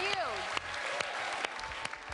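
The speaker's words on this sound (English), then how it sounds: "Everybody, let's give a round of applause." Scattered applause from an auction crowd chasing a reserve price, individual claps popping out against a voice talking over the room, fairly faint and sparse.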